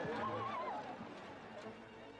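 A horse neighs at a horse eventing competition, giving a single rising and falling whinny near the start that fades into quiet background noise.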